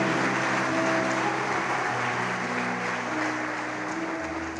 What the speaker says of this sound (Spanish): Dele un aplauso fuerte, fuerte, por favor, para el Señor.